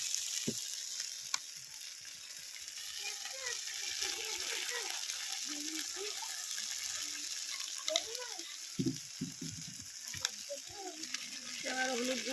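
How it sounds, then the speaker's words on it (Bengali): Spices and cumin paste fry in hot oil for a shrimp and pumpkin greens dish. The sizzle is close and steady, with occasional stirring scrapes, and faint voices murmur underneath. "জিরে বাটা দিয়ে দিচ্ছি। এবার মশলাগুলো ভালো করে ভেজে নেব।"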